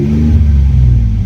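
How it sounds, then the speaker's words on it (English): A Ford F150 EcoBoost engine, just fitted with new Ford Racing spark plugs, rumbles loudly and close under light throttle, giving a steady, deep idle-to-rev drone throughout. "So I'm gonna give it some gas."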